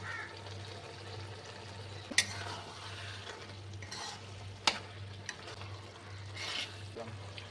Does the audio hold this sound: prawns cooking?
yes